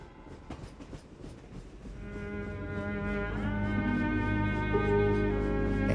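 A train approaches with rhythmic clatter that swells into a long, loud horn blast held for several seconds, drawing nearer and growing louder throughout, with no voices heard.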